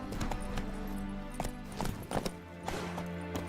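Roach the horse's hooves in The Witcher 3, a brief burst of rhythmic hoofbeats over a sustained tonal game music bed, fairly close.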